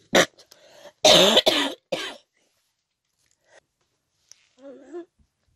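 A woman coughs in loud bursts, one short cough then a longer harsh fit and a follow-up, trailing into faint throat noises and quiet sounds.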